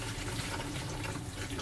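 Steady running water rinses red lentils, a close, continuous wash of flowing liquid with no talking, during stove-top cooking aboard a narrowboat.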